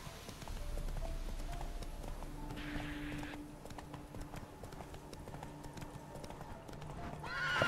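A horse in The Witcher 3, out in the Velen region, trots with steady hoof clops and snorts, then gives a short whinny near the end, against soft game ambience.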